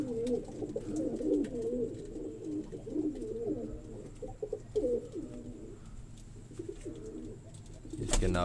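A female breeder pigeon coos repeatedly in low, rolling phrases with brief pauses between them, close and fairly loud over a faint background hum.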